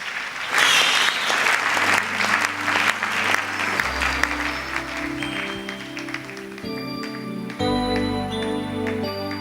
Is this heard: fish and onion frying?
no